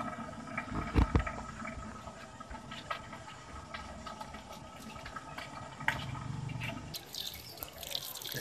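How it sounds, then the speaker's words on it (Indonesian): Water splashes and drips irregularly nearby while rinsing a pit viper's cage, with a few louder spatters and a short gush of running water toward the end. "Kita siram sebentar"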